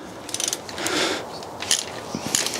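A ratchet fitted with a T45 socket cracks loose the EGR valve bolts on a car's exhaust manifold, producing short close mechanical clicks and a brief scraping turn in a couple of bursts.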